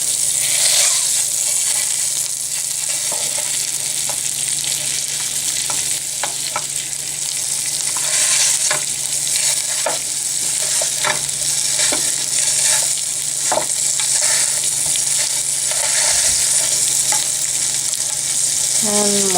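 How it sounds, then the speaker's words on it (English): Sausage fries over medium heat in a pan while a wooden spoon breaks it up, giving a constant loud sizzle with scattered scraping and tapping strokes throughout, close and steady without talk. "you just stick your sausage in the pan and have it on about medium heat, and you just break it up with a wooden spoon"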